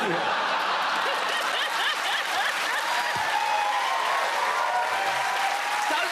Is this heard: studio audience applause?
yes